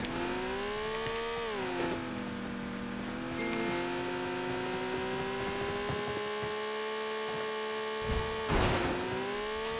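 Stuck vehicle engine in PUBG Mobile on the Vikendi snow map, a steady droning hum with sustained tonal whine that dips and rises slightly as it strains, with a brief louder surge near the end.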